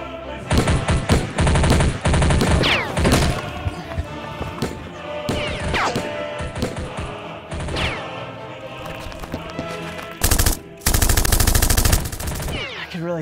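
A spring-powered Tommy gun toy fitted with a red dot scope, heard as loud, rapid bursts of clacking shots in several volleys over roughly thirteen seconds, close up with scattered thuds between bursts.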